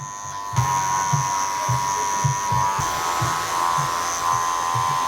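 Electric hair clippers with a 1.5 guard cutting curly hair, a close steady buzz whose pitch dips in short repeated strokes as the blades work through the hair.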